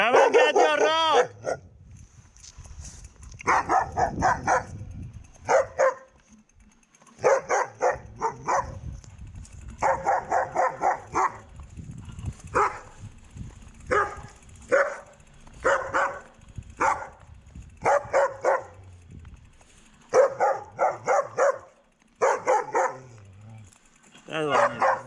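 A dog barks in repeated bursts at a passing cyclist on a road in Masuria, Poland, loud and close with short gaps between volleys, while someone shouts at it in between.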